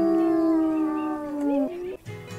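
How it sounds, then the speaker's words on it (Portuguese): A wolf howls in a video game, a long, loud, sustained tonal howl that bends and wavers before breaking off, followed by a brief shorter yelp at the end, with no speech. "A Lone tá uivando"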